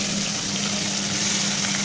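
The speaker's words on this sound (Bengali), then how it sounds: "ক্যাপসিকামগুলো একটু ভাজছি" Chopped capsicum fries in hot oil in a pan, giving a dense, even sizzling hiss that stays constant and close throughout, with no voices.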